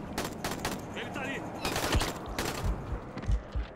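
Video game gunfire in Dying Light: bursts of shots crackle and pop irregularly over a noisy, busy background.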